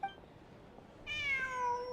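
A cat meows in the video game Genshin Impact: a single loud, clear drawn-out meow that rises then slowly falls, heard alone over faint background after a quiet stretch.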